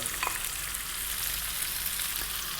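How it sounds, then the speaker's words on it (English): Two to three cups of onions frying in oil already flavoured with spices, giving a continuous bright sizzle close by with light stirring and no talk. "we're going to add like 2 or 3 cups of onions"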